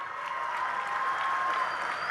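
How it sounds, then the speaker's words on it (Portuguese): A large crowd of movement activists and international delegations applauds at the MST national meeting in Salvador, a brief, even wash of clapping, moderately loud and continuous. "Uma salva de palmas para todo esse povo."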